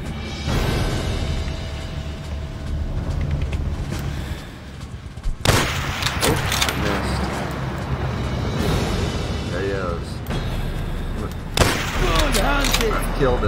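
Gunfire in the World War II shooter game Call of Duty: World at War, with several sharp shots and booms scattered through a busy game soundscape, partly under a voice talking.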